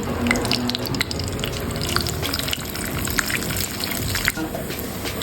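Cashew nuts fry in ghee for bottle gourd halwa, giving a steady close crackle and sizzle with occasional stirring scrapes, no talking over it.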